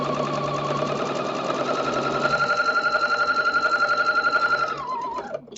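Sewing machine stitching a quilt seam for a quilted wall hanging, a loud, close, rapid rhythmic mechanical whir and knock that speeds up midway and winds down at the end, with no talk.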